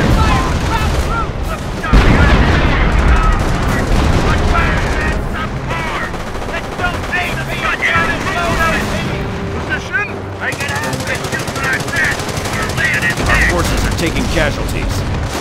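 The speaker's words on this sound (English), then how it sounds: "Base is under enemy fire." Sustained gunfire and explosions erupt during a World War II base assault in the real-time strategy game Company of Heroes at Mortain, with dense bursts of machine-gun fire and booms layered throughout, loud and continuous.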